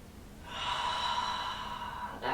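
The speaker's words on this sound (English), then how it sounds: "So one more deep breath here." One deep, audible breath taken close by, a steady airy rush lasting about two seconds, with no talking during it.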